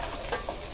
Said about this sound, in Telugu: అంత పసుపు వేసుకొని ముక్కలకు పట్టేంత వరకు తిప్పుకోవాలి